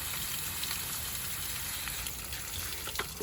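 Potted orchids in moss or composted peanut shells being watered heavily, a steady soft gushing and pattering of water over the pots, fairly quiet and continuous with no talk.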